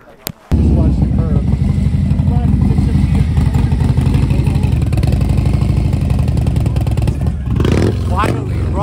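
A motorcycle engine runs loudly and steadily close by with some revving, while people talk over it throughout.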